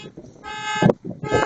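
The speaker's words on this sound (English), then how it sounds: "Is it maybe because the alarm's going off?" A car alarm blares in loud, pulsing electronic bursts at close range outside a Costco, with a brief gap between tones and thudding handling noise underneath.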